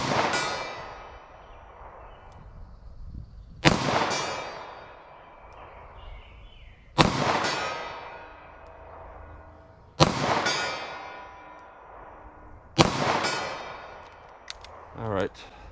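Five sharp shots from a .38 Special revolver with a 2-inch barrel firing Sellier and Bellot XRG lead-free hollow points, spaced about three seconds apart outdoors, each a loud crack with a decaying tail over quiet background.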